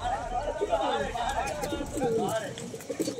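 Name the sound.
male pigeon cooing, Kaldom/Nafta Madrasi pigeon loft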